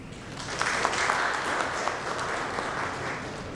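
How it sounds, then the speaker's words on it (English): Audience applause after a talk on financial inclusion, a steady wash of many hands clapping at moderate level with a few sharper claps standing out, sustained for a few seconds without voices. "can we have a huge round of applause one more time"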